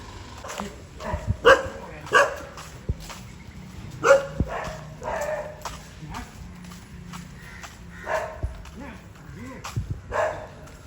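Stray dogs bark near a Labrador outdoors, with scattered barks and footsteps over several seconds while a person talks.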